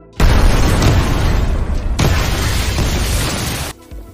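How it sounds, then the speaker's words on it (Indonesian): A loud explosion in a film scene blasts out as a dense, sustained roar lasting over three seconds, with a second surge of rumbling debris partway through, then cuts off abruptly. "tidak hanya kuil saja yang meledak, namun ruangan besi yang tepat berada di belakang Andu dan Yujeng ikut meledak"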